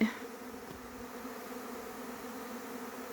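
A large honeybee swarm, likely a primary swarm, gives off a steady, low droning hum that holds evenly throughout, fairly faint and with no voices over it.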